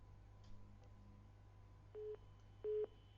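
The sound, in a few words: telephone busy tone after a phone call disconnected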